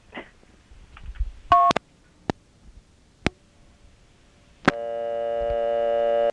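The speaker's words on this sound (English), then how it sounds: "Notice I was dumped right back to dial tone." On a Quebec payphone line, scattered clicks and short tone bursts lead into a steady, continuous telephone dial tone that comes on sharply and holds loudly to the end.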